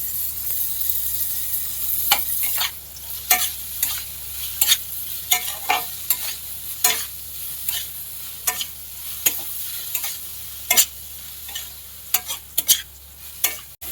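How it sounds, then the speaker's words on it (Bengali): Finely chopped onions, two large ones, frying in a pan and stirred steadily: continuous sizzle with regular close scraping strokes of a spatula across the pan, fairly loud, no voices. "পেঁয়াজটাকে এবার লাল লাল করে ভাজতে হবে"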